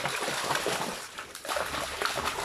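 Water splashes and sloshes nearby as it is drained from a catfish pond on a fish farm, an irregular run of splatters and trickles.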